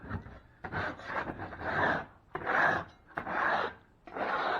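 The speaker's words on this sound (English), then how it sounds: "I'm just going to scrape the rough texture that someone already did" A scraper works rough texture off a patio ceiling during a drywall stress-crack repair, giving repeated raspy scraping strokes in bursts with short pauses, close and moderately loud.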